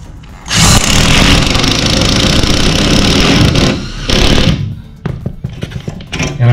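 A power drill drives Teks self-drilling screws through thick metal while framing walls in a converted school bus, a loud, sustained close whine that stops, restarts briefly, then ends in a few clicks.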